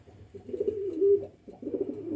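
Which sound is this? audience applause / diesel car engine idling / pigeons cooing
pigeons cooing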